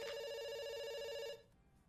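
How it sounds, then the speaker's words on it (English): A video game telephone rings with a steady, bright electronic trill, loud and continuous for over a second before cutting off into near silence. "It's ringing."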